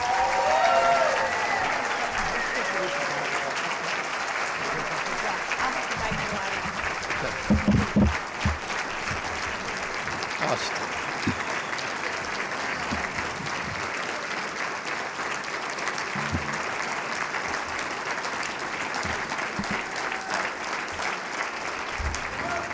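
A luncheon audience applauds for about twenty seconds to welcome Chicago Cubs owner Tom Ricketts, a steady full-room clapping with a few louder bursts that holds level throughout.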